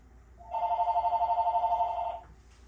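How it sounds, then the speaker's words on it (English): A telephone rings once with a warbling electronic trill lasting about two seconds, clear and fairly close in a quiet room. "Of course, the phone is ringing"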